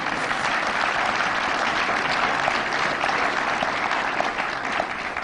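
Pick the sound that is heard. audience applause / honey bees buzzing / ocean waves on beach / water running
audience applause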